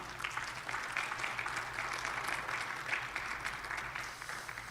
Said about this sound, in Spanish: Démosle palmas a nuestro Dios.